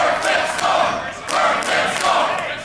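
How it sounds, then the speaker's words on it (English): A large arena crowd at a no-disqualification professional wrestling match boos loudly, its roar rising and falling in long surging waves without letup. "This crowd is booing him to his face."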